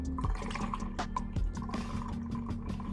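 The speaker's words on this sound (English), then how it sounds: "I'm going to pour this in." Liquid black soap being poured into a container during soap making, a continuous splashing, gurgling pour with bubbly filling sounds, close and fairly loud with no talking.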